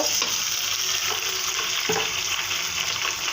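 Ginger and garlic fry in a hot pan for a radish, potato and dried fish curry, giving a steady close sizzle with faint stirring scrapes.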